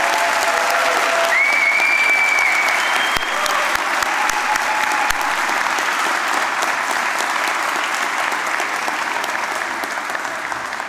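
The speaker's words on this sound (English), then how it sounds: "One final big round of applause, please, for everybody here today." Sustained loud applause from a large audience at a college graduation ceremony in Dublin, dense and continuous clapping that holds steady and tapers slightly toward the end.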